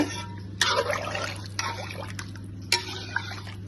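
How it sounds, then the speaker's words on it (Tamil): Measured rice poured into a pot of boiling water while meat simmers, giving a soft pouring rush with a couple of sharper splashes over a steady low hum, close and moderately loud, no talk. "அரிசி அளந்து இதில் சேர்த்துக்கலாங்க."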